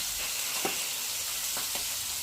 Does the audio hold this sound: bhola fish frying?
yes